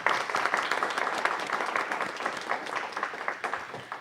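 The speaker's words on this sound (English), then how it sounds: "let's first start off by giving them a round of applause" Audience applause at a council meeting: a steady wash of many hands clapping at once, fairly loud and even, sustained for the whole few seconds with no voices over it.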